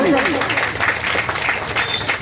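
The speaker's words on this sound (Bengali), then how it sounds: "একটু পুরস্কার নেওয়ার জন্য করতালি" An audience at a drawing competition prize-giving ceremony clapping for the winners, a brief burst of applause under someone speaking over a microphone.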